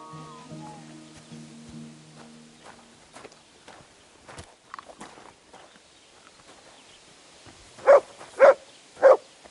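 Three sharp, loud barks from a dog in Kingdom Come Deliverance 2, evenly spaced near the end, following quiet footsteps, a few soft thuds and a brief musical tone at the start.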